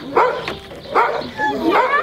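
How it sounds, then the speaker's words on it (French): A small dog barks close by in three sharp, loud yaps spaced evenly apart, with a touch of whimpering tone and no one talking. "on a un petit chien avec nous"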